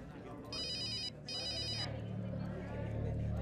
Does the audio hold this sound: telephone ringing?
yes